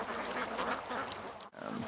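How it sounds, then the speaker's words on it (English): Ducks quack and chirp steadily from a muddy wetland spot, a dense, continuous chatter of several birds fairly close by, with a brief break near the end before the calls resume. "But we got chirping right back there"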